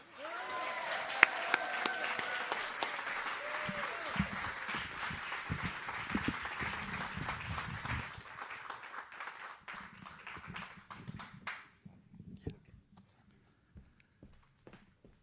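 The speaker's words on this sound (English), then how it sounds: "Please get ready to unleash another huge round of applause for your next storyteller" A live storytelling show audience claps for the next storyteller, with steady, fairly loud applause and a few cheers for about eight seconds, then thinning out to scattered claps and soft room noise.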